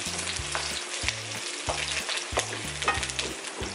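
Onion sautés in a ceramic Tefal pan for chop suey, a dense continuous sizzle with steady crackling, close and fairly loud, accompanied by low rhythmic tonal background music, no one speaking.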